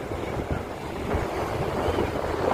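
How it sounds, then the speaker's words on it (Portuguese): Strong wind at Itaúna beach in Saquarema buffets the microphone in a steady, roaring rush, with broadband noise that sounds like gusts and surf near the shore. "Olha o vento. Ventania danada. Muito vento mesmo."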